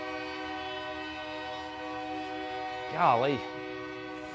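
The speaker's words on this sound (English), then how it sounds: "Here comes another train." A loud train horn blasts for about half a second from a passing train, wavering in pitch over a steady rumble of rail cars rolling by close at hand, with a voice speaking briefly.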